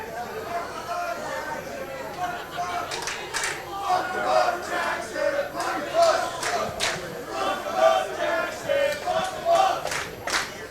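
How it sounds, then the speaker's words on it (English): A boisterous wrestling crowd at a Winter-Bash 2025 event roars and cheers in loud, continuous waves, with sharp bursts of shouting and clapping rising repeatedly above the steady din of the arena. "His crowd has been boisterous tonight."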